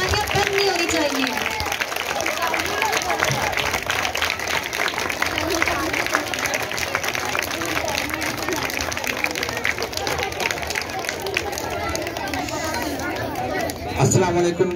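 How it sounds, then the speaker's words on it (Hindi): Children and adults at a school event in Karachi, Pakistan, clap continuously as a guest walks to the stage. Busy chatter and cheering voices run throughout, rising briefly near the end. "जब तक सर स्टेज पर तशरीफ लाएं तालियां बंद नहीं होनी चाहिए"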